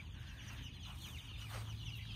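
Backyard chickens cluck at feeding time, a dense, close chatter of soft overlapping clucks and peeps, continuous and without speech.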